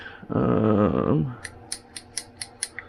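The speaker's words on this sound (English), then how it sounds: "I got some double-sided tape right here. Scissors." Scissors snip through double-sided tape in a workshop, about seven quick, crisp cuts in an even rhythm, following a short burst of a voice at the start.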